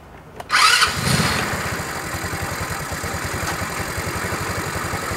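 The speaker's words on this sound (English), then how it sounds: "if I turn on the motor of the scooter" A Gy6 150cc scooter engine cranks with a brief starter whir, catches with a loud burst, then settles into a steady, even idle close by.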